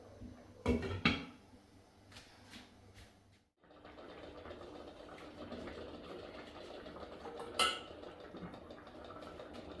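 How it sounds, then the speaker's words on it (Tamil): A lid set down over a pot of fish curry: a couple of clanking metallic knocks near the start, a brief quiet, then steady low kitchen noise with another faint clink later on. "மீன் குழம்பு நாங்கள் மூடி விடுவோம்"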